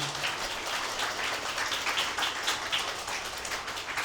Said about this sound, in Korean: 신랑 신부께 큰 박수 부탁드립니다